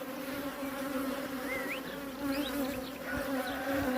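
Steady buzzing of honey bees fills the air, a dense continuous drone with occasional individual bees passing closer.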